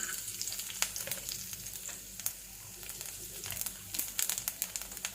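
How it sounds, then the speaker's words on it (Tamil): Mustard seeds and garlic frying in a little oil, making a quiet continuous sizzle dotted with sharp crackles and pops, busier toward the end. "இப்போது நான் கொஞ்சமாக ஆயில் விடுறேன். கடுகு, இப்போது பூண்டு போடுறேன்."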